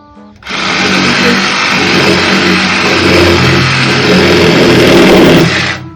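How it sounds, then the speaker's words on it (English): A Sawzall reciprocating saw buzzes loudly and steadily through hard apple wood, starting abruptly and running for several seconds before cutting off, very close with no talking. "why not grab a Sawzall?"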